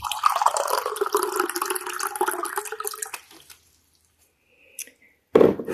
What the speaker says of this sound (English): You can pour water in here from the faucet and it will filter it